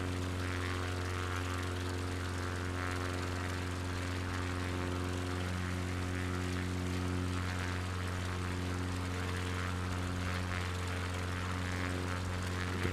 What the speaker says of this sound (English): Plane's struggling in this thin air